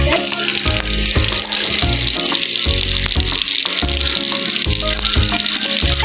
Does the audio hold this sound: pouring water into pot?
yes